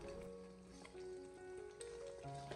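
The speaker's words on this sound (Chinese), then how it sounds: "我们开小火给它慢慢的进行煎制一下，把鸡蛋给它慢慢的煎制定型凝固。" Eggs frying in hot oil in an iron wok over low heat, a steady close sizzle with faint crackle running throughout, accompanied by a few sustained tonal hums in the background.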